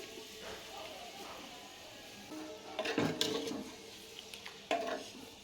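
A spoon stirs mutton in a cooking pot, with faint scrapes and a few louder knocks against the pot near the middle and end over a quiet kitchen background.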